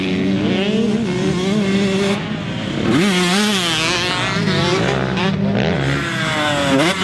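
A 2019 KTM 125SX two-stroke dirt bike engine screams and revs close by, pitch climbing and dropping repeatedly as it shifts through gears, loud and continuous with no talking.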